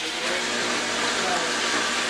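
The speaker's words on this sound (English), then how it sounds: "You're putting the can of tomatoes right into the blender." A blender on its stir setting churns a can of tomatoes for a homemade sauce, giving a steady, loud broadband whirring hiss that holds evenly throughout with no talking over it.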